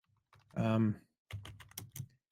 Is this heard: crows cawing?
no